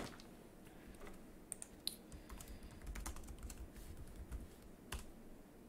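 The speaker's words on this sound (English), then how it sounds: "Peter Sayach, I'll type his name in here." Typing on a computer keyboard, a steady close patter of quiet key clicks running throughout, with no voices.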